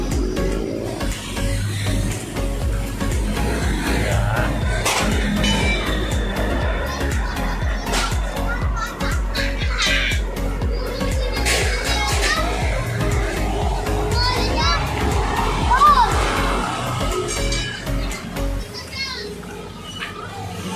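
Children play and shout outdoors on an afternoon in the Philippines, with a constant lively murmur of young voices and chatter across the whole stretch, loud and near, with busy crowd-like background.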